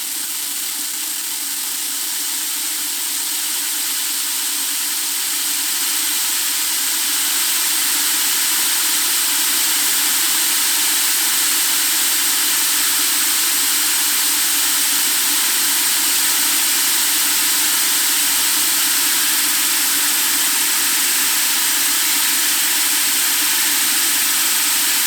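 A DIY magnetic deburrer driven by a Teknic ClearPath motor runs at 500 RPM, producing a loud, steady whirring hum with a high hiss that swells slightly in the first seconds and then holds constant, with no talking.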